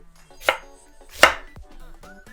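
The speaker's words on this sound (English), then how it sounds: "I'm going to mince up my garlic" Garlic cloves are minced with a knife on a cutting board: two sharp, close chopping thuds about a second apart, then a softer knock, against a quiet background.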